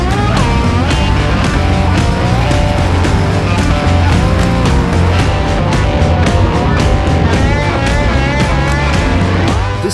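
A truck on 38-inch by 15.50-wide Arctic Trucks Icelandic snow tires drives loudly and steadily, its engine drone and tire roar constant and close, with repeated sharp pulses throughout.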